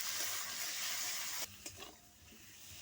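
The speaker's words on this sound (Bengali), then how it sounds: "মশলাটা আমি খুব ভালোভাবে কষিয়ে নিয়েছি।" Spice masala with potatoes fries and is stirred in a pan, giving a dense close sizzle that suddenly drops in loudness partway through, followed by a few scraping stirs and a softer continuing fry.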